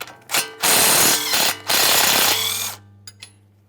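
A hand ratchet loosens a 14mm pinch bolt and nut on the lower control arm of a 2014-2018 Mazda 3, giving two loud, close bursts of rapid clicking followed by a few light metallic clinks.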